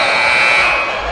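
A basketball game clock buzzer at a college game sounds as one loud, steady electronic drone lasting over a second, with arena noise beneath it.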